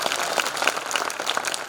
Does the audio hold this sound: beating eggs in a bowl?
no